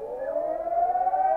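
A loud, continuous old air raid siren wails steadily with a sustained, slowly wavering tone that holds for the whole stretch.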